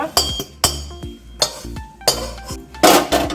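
Panch phoron, cumin and dried chillies are stirred in a dry pan, with a utensil clanking sharply against the metal in repeated strikes and scrapes over short ringing tails.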